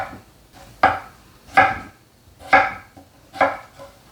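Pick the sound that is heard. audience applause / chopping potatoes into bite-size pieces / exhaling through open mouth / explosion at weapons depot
chopping potatoes into bite-size pieces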